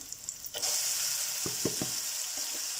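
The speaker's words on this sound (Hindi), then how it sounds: "तो अब हम इसमें अदरक लहसुन और हरी मिर्च का पेस्ट शामिल करते हैं।" Ginger, garlic and green chili paste hitting golden frying onions for aloo gosht, a steady loud sizzle swelling as the paste goes in, with a few soft clinks of stirring.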